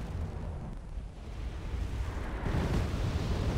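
AMOS twin mortar shells explode in the video game Wargame Red Dragon, a continuous heavy rumble of overlapping blasts that swells louder toward the end, with no talking.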